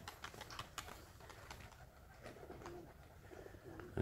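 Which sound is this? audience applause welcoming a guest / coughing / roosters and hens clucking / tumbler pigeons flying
tumbler pigeons flying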